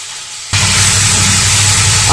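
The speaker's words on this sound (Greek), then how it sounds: "Ανακατεύουμε λοιπόν για να θωρακίσουμε το κρέας." Beef chunks stirred and seared in a hot pot give a sudden, steady close-up sizzle that starts half a second in and holds loud and even to the end.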